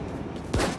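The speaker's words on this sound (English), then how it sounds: "you guys know what game has a really fucking great video game shotgun?" A single loud, close shot booms from a full-auto, rotary-barrel shotgun in the video game Wolfenstein: The New Colossus, ringing out briefly over quiet game ambience.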